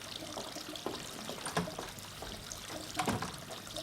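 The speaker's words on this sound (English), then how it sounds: "Just keep on flushing it until I shout for you to stop" Water pours and trickles steadily as a toilet is flushed repeatedly, with a couple of louder gushing surges over continuous running water at close range.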